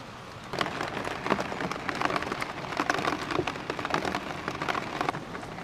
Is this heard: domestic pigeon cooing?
no